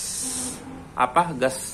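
Mosquito insecticide spray can hissing in a steady spray for about half a second, then stopping; afterwards, close speech-like bursts follow without further spraying.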